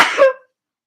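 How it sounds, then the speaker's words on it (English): A single short, sharp sneeze-like burst, close and fairly loud, ending abruptly into silence. "I feel a sneeze coming."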